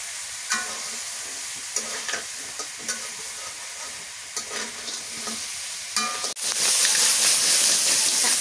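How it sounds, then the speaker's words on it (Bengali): Sea crab fries in a pan with oil, with rhythmic scraping stirs over a steady sizzle, ending in a sudden loud hissing surge near the end. "কাঁকড়া ভাজা হয়ে গেছে"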